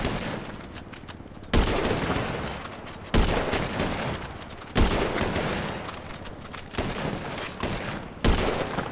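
Gunfire in GTA 5 during a runners-versus-snipers race: loud, sharp shots sound every second or so with dense rattling bursts between them, continuous and close across the whole stretch with no speech.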